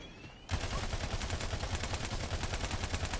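Rapid automatic gunfire bursts suddenly in the shooter game Battleborn, a dense, loud stream of quick shots rattling continuously after a brief quieter lead-in.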